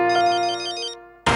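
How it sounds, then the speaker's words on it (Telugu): A phone ringtone from a Telugu TV serial sounds loud and close as a short sustained electronic melody, fading slightly before a sudden burst of broadband noise ends it. "ఈ ఫోన్ ఇప్పుడే రావాలా?"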